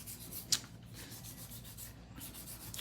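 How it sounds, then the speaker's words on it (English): An acrylic nail being hand filed, with soft, steady rasping strokes repeating at an even pace, faint and close, and no talk. "A little bit of hand filing."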